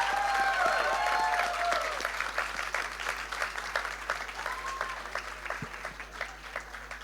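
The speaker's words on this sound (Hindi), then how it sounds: "जोरदार तालियों से उनका अभिनंदन करेंगे इस मंच पे" Audience applause greeting a performer on stage at a literature festival, loud at first as a dense crowd of clapping, then gradually thinning and fading toward the end, with faint tonal sound early on.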